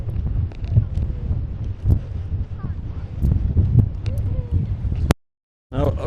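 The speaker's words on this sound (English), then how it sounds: "The wind spun my camera around." Strong seaside wind at Llandudno buffets a camera microphone with a constant low roar and gusty rumbles, cutting out briefly to silence near the end before the blustering returns.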